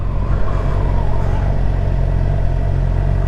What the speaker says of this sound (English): Today I'm riding a 2018 GSX R750.